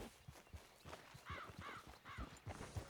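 A horse gallops away in the Red Dead Redemption 2 video game, its hooves beating in a quick, steady clip-clop rhythm that is fairly close and clear, with a brief whinny-like call partway through.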